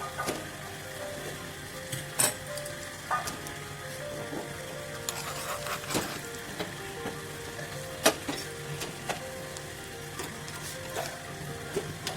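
Cumin seeds and chopped garlic fry in ghee, a constant soft sizzle with crisp pops and occasional clicks of a utensil, close and fairly quiet, with no talking.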